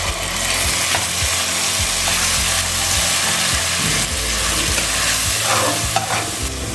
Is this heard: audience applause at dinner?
no